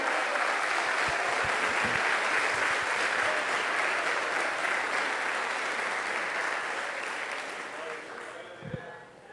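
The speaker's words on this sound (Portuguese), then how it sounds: "Ah, pode aplaudir a Jesus" A congregation in a church service bursts into sustained, dense applause that holds steady and loud for several seconds, then gradually thins and fades toward the end with a few last claps.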